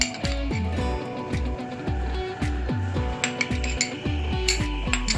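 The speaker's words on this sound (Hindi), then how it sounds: "मिक्स करते हैं।" Spoon clinking against a bowl while mixing fruit chaat with chaat masala and tutti frutti, a rapid, regular series of ringing metallic clinks, close and loud.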